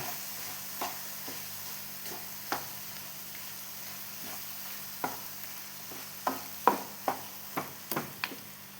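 Jaggery being sautéed with chopped dates and cashews in a pan, a soft hiss under scattered spoon scrapes and taps on the pan that grow more frequent and sharper toward the end.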